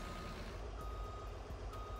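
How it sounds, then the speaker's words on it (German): Volvo FMX truck reversing beeps in the Farming Simulator 19 video game, a steady sequence of evenly spaced high beeps over a low idling engine hum, faint and without talk. "das Piepen ist natürlich auch beim Rückwärtsfahren mit verbaut"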